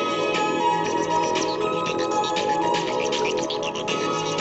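A song plays through an FM transmitter tuned to a radio, coming through as steady, dense music with a slightly thin, band-limited broadcast tone and no pauses.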